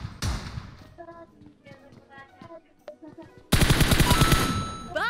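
Gunfire in a shooter video game, with rapid bursts of shots and a dense loud volley near the end, alongside game sounds and a voice talking.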